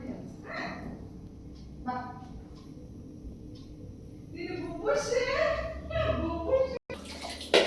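Water runs and splashes while a Shih Tzu dog is bathed, a steady low wash that swells louder in the second half, with voices talking over it.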